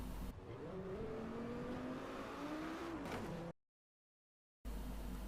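Race cars in Driveclub on PS4, engines droning and revving loudly with a pitch that rises and falls, cutting to silence for a second before the roar resumes.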